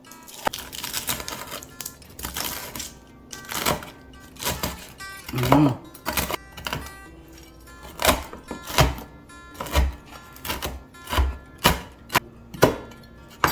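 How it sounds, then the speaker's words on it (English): Knife chopping bacon on a cutting board for Zuppa Toscana soup, a string of sharp, irregular close thunks spread across the clip. "we are gonna start chopping our bacon"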